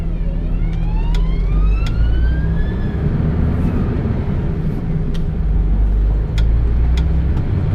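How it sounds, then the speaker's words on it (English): An oncoming emergency vehicle's siren wails with rising and falling sweeps over the steady rumble of a heavy goods lorry driving through Exeter, loud and continuous with the engine noise throughout. "we've got an oncoming emergency vehicle"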